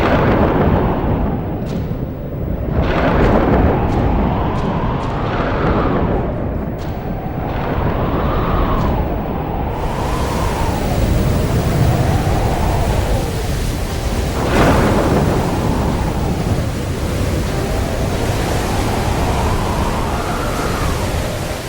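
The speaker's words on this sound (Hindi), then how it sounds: "अचानक तेज जल वृष्टि के साथ तूफान आया।" Heavy rain roars steadily while deep thunder rumbles and swells repeatedly, loud and close, with no voices.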